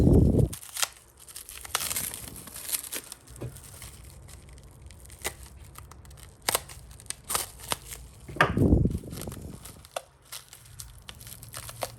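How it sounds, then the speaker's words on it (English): Tissue-cultured carnivorous plants, fly traps, being unboxed as a package is cut open, giving scattered crinkling, tearing and snipping noises with a few louder rustling bursts near the start and again toward the end. "Let's cut it open."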